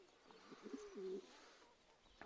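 A pigeon coos quietly a few times in a low rolling call, faint and close, with soft background noise and no talking.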